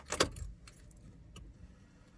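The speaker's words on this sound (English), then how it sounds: "Keys in the ignition." A quick jangle of car keys up close going into the ignition, followed by a few light clicks and a low idle hum inside a Volkswagen Golf Mk5 or Mk6.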